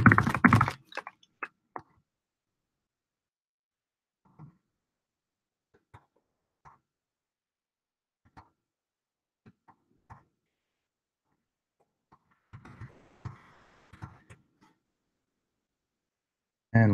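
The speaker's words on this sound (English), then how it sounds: "So we'll just type in some random crap here." Short bursts of computer keyboard typing, a quick flurry near the start followed by sparse isolated key taps and a second denser run of keystrokes later, close and fairly quiet with no talking.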